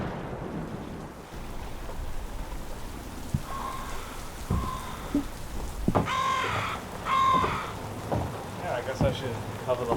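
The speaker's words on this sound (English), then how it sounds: "Now I have a rain shower." A rain shower patters on the deck of a sailboat, a soft steady hiss with scattered close drops, while a crow caws several times in the background.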